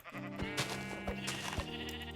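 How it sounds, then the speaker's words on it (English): Sheep bleating in Minecraft with the Gregtech: New Horizons modpack, a few short bleats alongside soft percussive hits, fairly quiet and with no talking over them. "And punch this sheep."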